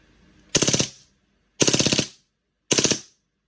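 A WE M9 gen2 airsoft pistol fires on full auto in three short, sharp bursts of rapid rattling shots, each burst separated by about a second of silence.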